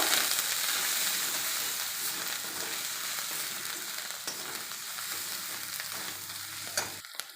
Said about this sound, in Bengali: হলুদ দেবো গুঁড়ি, ভালো করে ভেজে নেব।